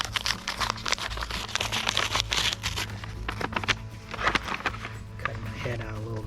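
A sheet of paper printed from the Fish Ohio website being opened and unfolded, with crisp crinkles and rustling bursts close up, while someone talks intermittently over it.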